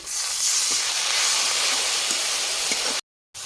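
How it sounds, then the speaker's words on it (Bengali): Water poured with turmeric into a hot pan, a loud, broad steamy hiss that holds steady for about three seconds before cutting out abruptly, no talking. "হলুদ গুঁড়ো দিয়ে দিচ্ছি সামান্য জল দিচ্ছি"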